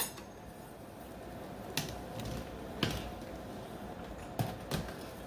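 A pot of crab and shrimp boil being stirred, with a handful of sharp clinks and knocks of the utensil against the pot spaced irregularly over a quiet, faint background.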